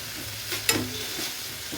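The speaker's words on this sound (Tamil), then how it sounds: "நிமிஷமாக இது வதங்கிடும் இந்த கீரையும்" Spinach (siru keerai) sautés in a hot pan with a soft, steady sizzle and one brief scrape of a spoon stirring the greens, heard up close.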